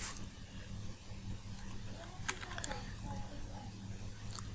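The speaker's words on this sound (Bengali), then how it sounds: "আমি যেভাবে টাইপ করব আপনার ঠিক সেইভাবেই টাইপ করবেন" Quiet, scattered clicks of typing on a computer keyboard, a few keystrokes at a time against a low steady hum.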